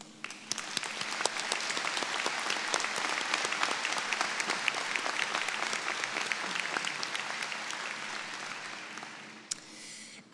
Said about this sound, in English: would you please join me in another round of applause?